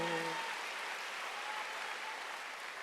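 Church congregation applauding during a Sunday worship service, broad sustained clapping filling the room at moderate level, with a brief voice at the very start.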